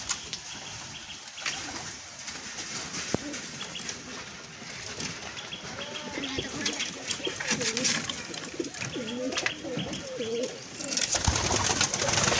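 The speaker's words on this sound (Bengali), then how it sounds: "আমার নানাদের অনেকগুলো কবুতর আছে, তোমরা এখন সবাই দেখো" Pigeons kept at a family home coo in repeated low throaty phrases, close by, with faint wing flutters and background rustle, growing busier toward the end; no talk.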